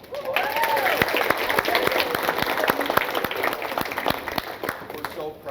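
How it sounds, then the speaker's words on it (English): Students give themselves a big round of applause at a school event, a dense, continuous burst of clapping from a crowd that runs the full length, with faint voices mixed in. "let's give yourselves a big round of applause"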